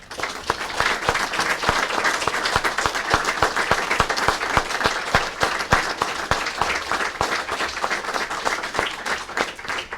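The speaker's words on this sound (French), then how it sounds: "nous devons l'applaudir chaudement" Mourners at a funeral ceremony break into warm, sustained applause, a dense and even roar of many clapping hands lasting about ten seconds with no one speaking over it.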